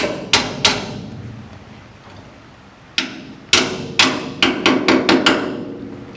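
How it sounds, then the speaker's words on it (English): Loud, close hammer blows on a GT3 road race car chassis: two strikes, a pause, then a quick run of about seven sharp hits in a row. "Hammer action here."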